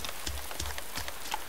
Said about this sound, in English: pissing down with rain, horrible day